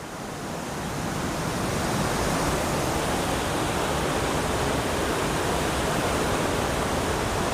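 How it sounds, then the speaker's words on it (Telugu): Water pouring down inside a cave beside a river, a steady dense rushing roar that fills the space evenly from start to finish with no pauses and no voices. "అటు నుంచి కూడా వాటర్ అయితే పడుతూ ఉంది"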